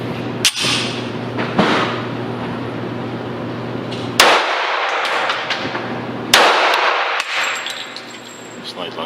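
A newly built 1911 pistol fired twice during a test, with sharp, loud cracks ringing out close by, separated by a few seconds, plus metallic clacks from the slide between shots.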